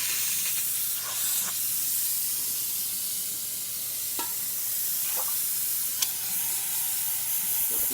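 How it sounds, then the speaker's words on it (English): An Expobar office lever espresso machine's steam wand hisses steadily for about eight seconds, a broad continuous rush with faint clicks and brief knocks scattered through it. "and now testing the steamer"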